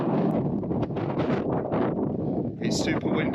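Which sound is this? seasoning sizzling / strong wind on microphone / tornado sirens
strong wind on microphone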